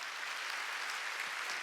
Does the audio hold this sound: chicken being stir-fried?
no